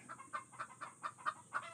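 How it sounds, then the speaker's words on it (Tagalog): A chicken clucks in a steady rhythmic series of short, fairly quiet calls, about eight in under two seconds, with no talking. "So, maingay pa yung manok namin."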